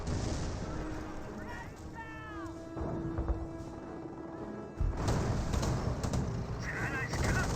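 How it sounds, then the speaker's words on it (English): Nebelwerfer rocket artillery barrage in Company of Heroes, a dense roar of launches and impacts over a busy battlefield, briefly thinning midway before surging back loud, with voices and other combat noise mixed in. "And here comes a Warframe barrage."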